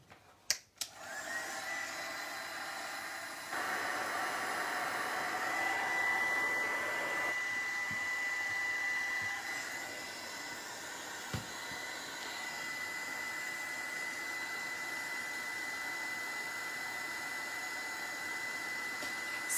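A hand-held dryer blows steadily on craft paint and charcoal black matte wax on a rustic bottle. It starts with a couple of knocks, then gives a continuous close whir whose pitch shifts slightly partway through and runs throughout.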